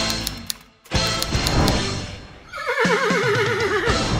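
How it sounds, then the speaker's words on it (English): A horse whinnies loudly with a wavering, descending neigh, preceded by a burst of rustling and movement noise. "That's a horse."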